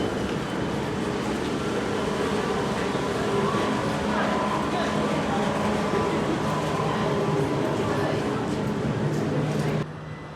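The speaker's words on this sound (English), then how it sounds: "And off goes our train bound for London Charing Cross." A Southeastern train departs a station bound for London Charing Cross, rumbling steadily close by, a continuous heavy rolling noise with people talking over it, fading slightly at the end.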